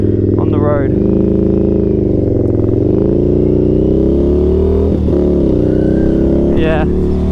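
An Indian FTR 1200 with a carbon exhaust drones loudly on the road, its engine note rising and falling through steady riding and shifts, close and continuous, with faint talk in the background.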